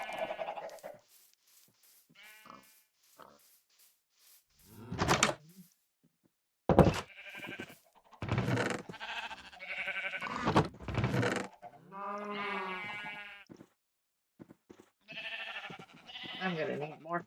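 Sheep in a Minecraft-style survival game bleat in short, separate calls, several of them spaced apart by brief silences, close and fairly clear.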